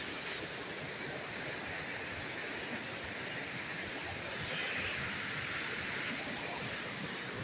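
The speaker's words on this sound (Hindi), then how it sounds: "देखें पानी कितना दूर से, कितने प्रेशर से आ रहा है।" Water gushing under pressure at an outdoor campsite, a loud continuous hissing rush that holds steady without pause, close and unbroken throughout.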